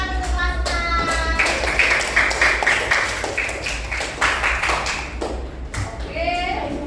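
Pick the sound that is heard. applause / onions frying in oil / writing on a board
applause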